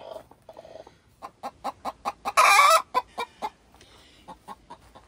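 Hens in a hoop coop let out a series of close, rhythmic clucks, rising into one loud squawk midway before the clucking resumes and fades into sparse calls.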